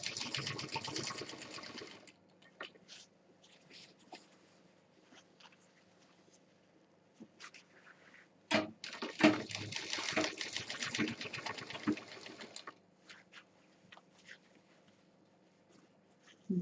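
A sewing machine stitching a curved, round-cut seam on a homemade college bag, running in short bursts with quiet pauses between, then a longer steady run of rapid needle clatter near the middle before it stops again.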